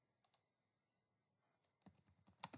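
Sparse keystrokes on a computer keyboard as a command is typed in a terminal, with two isolated clicks, then a quick closely spaced run of taps ending on a sharper final key, close and clear with no talk.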